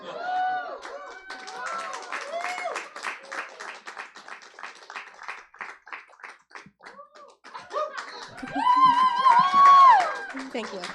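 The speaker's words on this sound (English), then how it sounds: "Another round of applause for Gita." An audience applauds and cheers after a talk at a convention-style event. Clapping runs under loud whoops and shouting voices, rising again toward the end.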